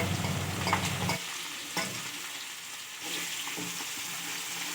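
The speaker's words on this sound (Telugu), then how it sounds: "అదే ప్యాన్లో మనం ఉల్లిపాయలు, పచ్చిమిరపకాయలు, కొత్తిమీర వేసుకోవాలి." Onions, green chillies and coriander fry in a pan for a masala fish fry, a steady close sizzle with a low rumble of stirring at first, then lighter crackling that carries on alone without talk.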